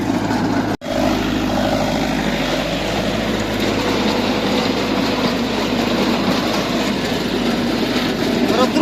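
A Lovol 354E tractor pulling a Wirax potato digger through a field drones loudly and steadily, with a continuous rattling clatter of the digger, close up and unbroken apart from a brief dropout.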